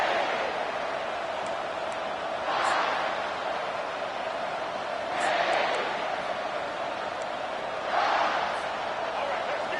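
Stadium crowd at a college football game featuring the Gamecocks, a broad roar that swells in three waves of cheering, rising and fading every few seconds over steady crowd noise.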